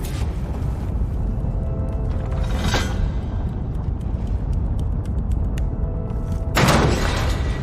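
A ballista fires in Horizon Forbidden West: a sharp mechanical release and boom near the start, then steady rumbling ambience, and a second loud burst of impact noise close to the end.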